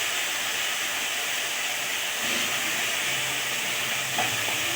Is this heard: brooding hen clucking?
no